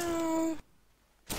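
A person imitating a cat over CS:GO voice chat, a single short drawn-out meow-like vocal tone that cuts off, followed by a brief pause and a burst of noise.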